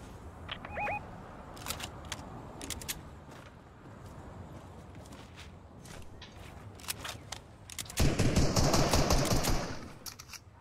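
Bursts of gunfire in a Fortnite squad match, sharp cracks scattered across the stretch, with a louder, denser barrage near the end.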